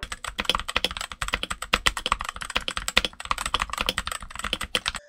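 Rapid clacky typing on a modded Redragon mechanical keyboard with case foam, a continuous flurry of crisp keystrokes close up, with no voices.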